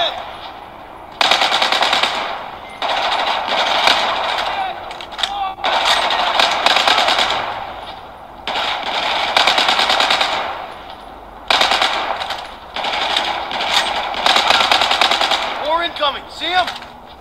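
Rapid automatic gunfire from the video game Battlefield 4, played via cloud streaming, comes in several loud sustained bursts separated by short pauses, with a few metallic ringing shell-like pings near the end.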